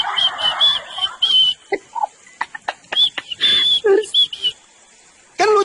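Shrill whistling in short, repeated tones with squeaky, chirping bursts and brief pauses, loud and close, with a few vocal-like sounds mixed in.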